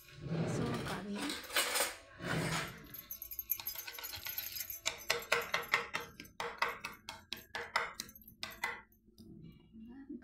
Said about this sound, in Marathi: याला आपण आता रवीने मिसळून काढूया.